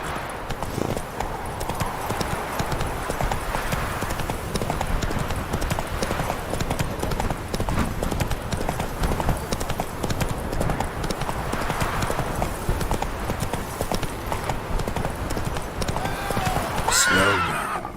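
Horse hooves galloping in The Witcher 3, a steady rapid clip-clop that runs the whole stretch at close range over game ambience, with a brief voice calling out near the end.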